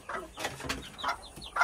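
Chickens released from their coop cluck and squawk in short bursts close by, several separate calls with quieter gaps between them.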